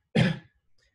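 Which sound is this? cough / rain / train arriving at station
cough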